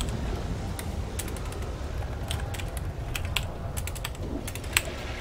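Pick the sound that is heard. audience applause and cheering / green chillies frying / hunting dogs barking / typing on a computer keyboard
typing on a computer keyboard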